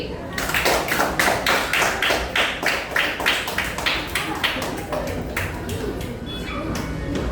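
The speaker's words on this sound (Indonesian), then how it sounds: "Semua berikan aplaus Pak Almiri." A class of students applauding in a school lesson: a group claps continuously in a quick, steady rhythm, loud at first and then gradually thinning out.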